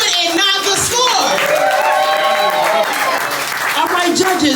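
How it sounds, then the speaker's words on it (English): A poetry slam audience claps steadily for a poet, a thick wall of applause mixed with shouts and voices, loud and sustained from start to finish. "Again, please clap it up for the poet and not the score."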